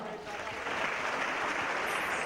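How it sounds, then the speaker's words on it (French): Comedy show audience applause, a steady wash of clapping that holds at moderate volume and grows slightly louder partway through, with some voices mixed in. "Applaudissez pour 140 et avocats."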